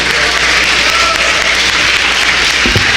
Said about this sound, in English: let's give a loud round of applause to our beloved historian, master teacher, Dr. Browder